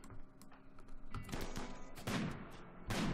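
Small assault rifle gunfire in the video game RimWorld, a string of sharp, clipped shots fired in quick irregular bursts, fairly quiet, with no talk.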